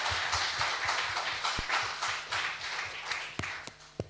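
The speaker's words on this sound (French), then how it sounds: "Can we just give a round of applause?" An audience gives a round of applause, with scattered claps and a few louder sharp claps near the end, fairly close and steady throughout.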